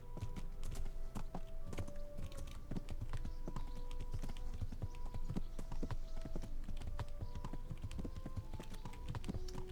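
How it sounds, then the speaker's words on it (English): Horse hooves clip-clop steadily and close in the medieval video game Kingdom Come Deliverance, a dense run of sharp, even footfalls at walking pace lasting throughout with no talk over them. "Ooh, look at these horses."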